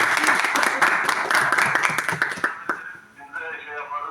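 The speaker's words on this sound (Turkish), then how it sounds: "Alkışlar veriyorum size." Audience applause, a dense patter of many clapping hands that is fairly loud at first and then thins out, with a voice speaking over the end.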